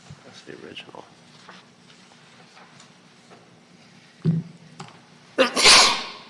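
A single loud sneeze bursts out near the end during a municipal budget and finance committee meeting, following a quieter room with a brief cough-like sound shortly before.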